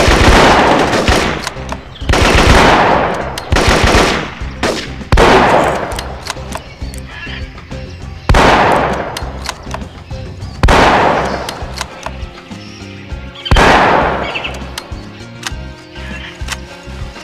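Loud bursts of automatic gunfire in the PC shooter Marine Sharpshooter 2, arriving in repeated volleys every couple of seconds with echoing tails between them, close and dominant.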